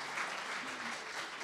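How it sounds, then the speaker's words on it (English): A crowd applauds, a dense wash of clapping that stays steady and fairly faint throughout. "Oh, I think they want to clap for that one."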